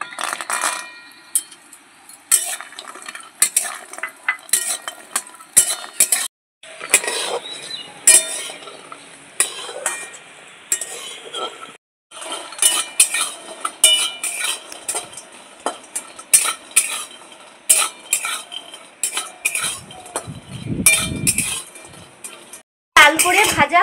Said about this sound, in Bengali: বড়ি ভাজার জন্য আমি কড়াইতে তেল দিয়ে দিচ্ছি। বড়িগুলো ভেজে নিচ্ছি।